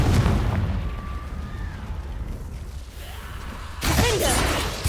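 Confringo blasting spell explosions in the Hogwarts Legacy video game, a loud broadband burst at the start and another near the end, with rumbling game effects and faint voice lines between.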